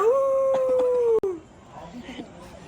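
A person imitates a dog's howl, a single sustained, wavering wail held for about a second that bends downward and breaks off, followed by quieter background voices.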